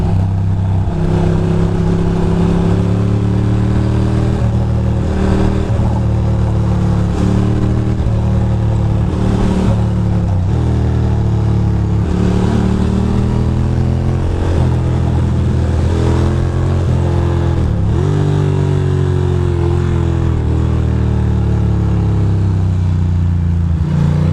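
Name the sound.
BMW motorcycle engine revving while riding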